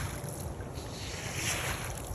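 Water pushed with a broom down a city alley during yard cleanup, a continuous loud rushing wash that stays steady and close for the whole stretch.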